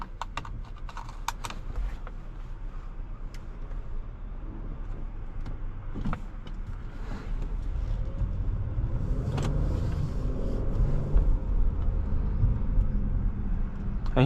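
A 2022 Acura MDX Type S SUV pulls out onto the road, its engine and tyre roar rising steadily from a moderate hum to a louder, fuller drone heard from inside the cabin, with small clicks and taps near the start.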